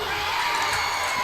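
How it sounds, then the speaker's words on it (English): A high school football crowd in the stands cheering and whooping after a sack, a steady continuous roar from the student section. "Crowd approves."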